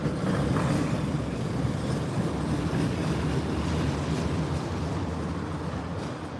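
Soviet-era tram in Magnitogorsk, Russia, a steady loud rumble of wheels and motor running continuously throughout with no voices.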